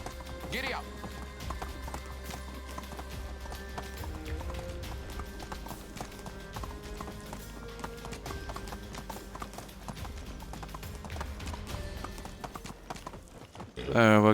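A horse gallops in the medieval village sim Medieval Dynasty, steady rhythmic hoofbeats clopping throughout at a brisk pace, with a player talking over them.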